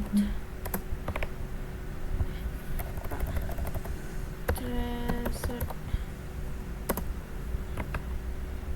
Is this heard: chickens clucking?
no